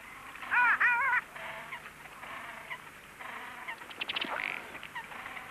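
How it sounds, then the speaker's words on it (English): Ruddy ducks, American stifftails, call at a lake: a few short harmonic, wavering calls close by, a pause, then a brief cluster of higher calls over quiet open-air background. "The newcomers were the kind of ducks known as stifftails, ruddy ducks from the United States."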